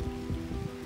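Rain falls steadily in Lighthouse Park, a soft, even patter heard briefly and at low level.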